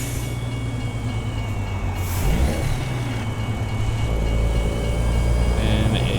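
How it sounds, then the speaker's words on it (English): A deep, steady roar of an aircraft passing overhead, swelling midway over a constant low engine rumble from nearby traffic. "an airplane or a helicopter went over us there"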